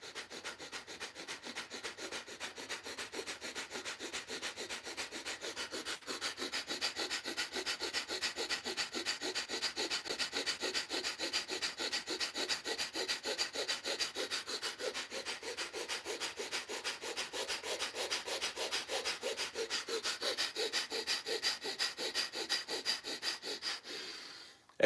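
Rapid, rhythmic breathing in and out through the nose during a morning meditation breathing exercise: a long, evenly paced run of close, forceful breaths that keeps going without a break.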